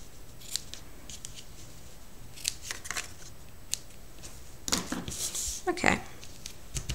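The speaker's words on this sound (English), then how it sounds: "I'm going to take my ribbon scissors and trim that off neatly." Ribbon scissors trim the end of a ribbon on a bow, giving a few crisp, close snips and light rustling of ribbon and paper, with bursts of handling noise near the end.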